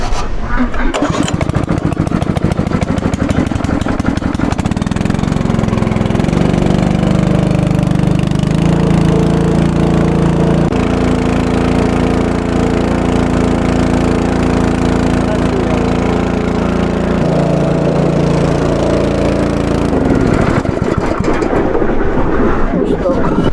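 A petrol motor pump for syrup, under repair, cranks and fires up, then runs loud and close with a steady throbbing drone that shifts in pitch before winding down, a voice speaking over the engine noise.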